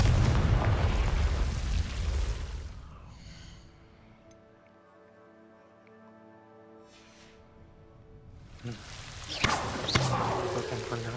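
A Confringo fire spell in Hogwarts Legacy bursts in a loud explosion up close, its roar fading into a quieter lull before a second rumbling burst with sharp pops at the end.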